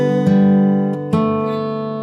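Finger-style acoustic guitar sounding a bass note together with a melody note, followed by two more plucked attacks, the ringing strings sustaining close and loud with no talk.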